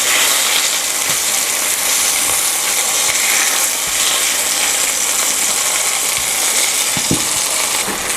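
Chicken browning in a frying pan for chicken marsala, a loud, steady hiss and sizzle that fills the whole stretch, with a few faint pops and clicks.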